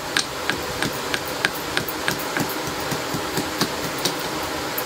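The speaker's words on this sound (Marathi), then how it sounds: "थोडे लसूणच्या पाकळ्या या खलबत्त्यात टाकून त्याची पेस्ट बनवून घ्यायची" Garlic cloves are pounded into a paste with a mortar and pestle: brisk, evenly spaced thuds, close and fairly loud, repeat steadily with no talk.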